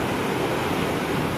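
Morning sea waves breaking on an empty beach make a steady, loud, broadband rush of surf with no voices, a dense continuous wash of water.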